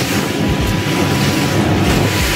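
A boat powered by a Honda BF150 outboard runs through half a meter of swell at about 23 knots in eco mode, a loud continuous roar of engine, hull and wind noise with no talk.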